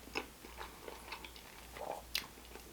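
Close chewing and crunching during a mukbang of Philly chopped cheeses and Doritos Blazin Buffalo Ranch chips, several crisp bites and wet chewing sounds in short bursts, no talking.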